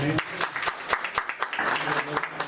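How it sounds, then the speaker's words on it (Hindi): Audience applause at a master class Q&A, a burst of many hands clapping in quick irregular rhythm with voices mixed in. "तालियां तो मार दो भाई"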